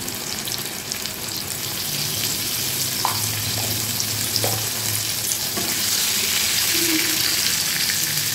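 Brinjal (eggplant) pieces seasoned with salt and turmeric frying in hot oil, a steady close sizzle with soft crackles and occasional stirring clinks, no talking.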